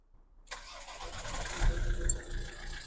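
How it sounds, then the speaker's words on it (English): A Ford Focus MK2 with the 2.0 TDCi diesel engine cranks and fires after fresh engine oil, oil filter and air filter changes, then settles into a steady, loud diesel idle close by. "let's do the first engine start"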